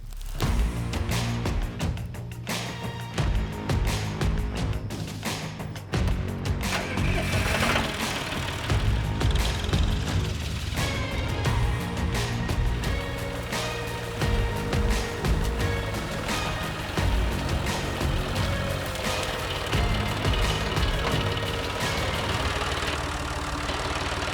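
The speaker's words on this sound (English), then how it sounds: "So we're gonna go on the tractor and get after it." A tractor engine runs steadily at close range during edge-feathering work on a hunting property, a loud continuous rumbling drone with rhythmic mechanical clatter throughout and no talking.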